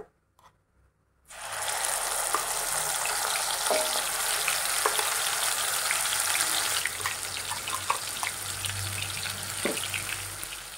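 Cumin seeds and ground masala hit hot oil with a sudden loud sizzle after a near-silent moment, then settle into a dense, steady frying hiss with faint crackles and occasional stirring.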